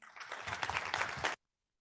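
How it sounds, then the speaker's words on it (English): Audience applause at a climate and circularity tech reception, a brief, faint burst of clapping lasting just over a second before cutting off abruptly. "Round of applause."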